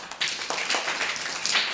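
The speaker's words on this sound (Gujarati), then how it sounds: "ચલો તાળી પાડો" Children in a classroom clap a few times, producing quick, uneven bursts of claps that are fairly close and moderately loud.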